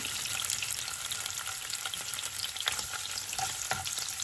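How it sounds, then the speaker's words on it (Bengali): Food frying in cooking oil rather than ghee gives a steady close hiss and crackle, with a few light stirring clicks through it. "আমি তেলের মধ্যে ভাজতেছি"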